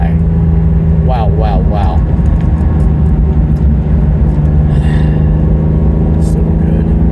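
A 1985 Euro spec BMW M635 CSi hums steadily from inside while driving, a loud continuous low engine drone with someone speaking briefly over it.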